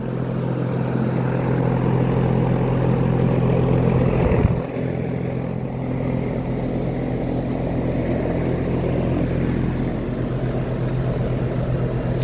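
Trane and Carrier central air conditioner units run outdoors, giving a continuous loud fan whoosh over a steady low electrical hum that barely changes.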